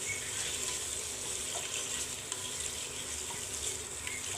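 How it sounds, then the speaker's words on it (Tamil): Prawns sizzle and sauté in a hot pan for prawn biryani, a steady crackling hiss with occasional scraping stirs, close and continuous. "இப்போ நல்லா வதக்குவோம்"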